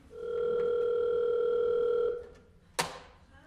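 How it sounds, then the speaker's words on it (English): A telephone tone sounds as one steady electronic note for about two seconds, fairly close, followed by a short sharp click after a pause. "My phone won't stop."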